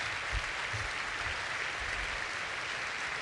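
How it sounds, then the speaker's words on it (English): Ferrari staff at the SF1000 car presentation receive warm applause as they stand, a steady, even wash of clapping from a large gathering, heard slightly distant with low rumbles underneath. "I want them all to stand up and to receive the warm applause that they all deserve"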